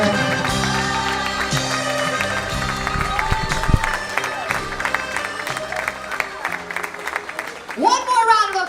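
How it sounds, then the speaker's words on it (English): Wedding guests at a reception applaud the bride and her father, clapping under loud music with tonal melody and a swelling crowd noise that rises toward the end. "Big round of applause for our bride and her very handsome"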